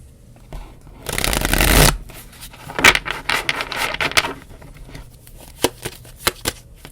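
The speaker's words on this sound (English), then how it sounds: "we'll see what comes up with another shuffle" A deck of tarot cards is riffled in one quick burst, followed by soft tapping and shuffling as the cards are squared and handled up close.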